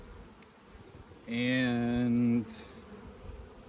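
Honeybees from a boosted hive give a steady, close buzz that swells for about a second and fades, with faint scattered buzzing and a brief spoken word around it.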